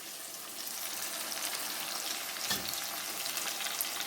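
Potatoes and fenugreek fry with spices in a pan, giving a steady close sizzle with light stirring and a brief louder scrape midway, and no voices.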